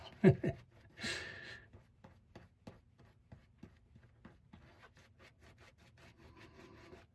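A shaving brush works scented shaving soap into a lather with a soft, rhythmic wet rubbing and swishing, a few louder strokes at the start and then quieter repeated strokes.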